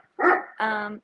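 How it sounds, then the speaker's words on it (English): Two loud, close barks from Great Danes outdoors, a short deep woof followed by a longer sustained bark with a strong low tone. "sorry if y'all can hear my dogs barking."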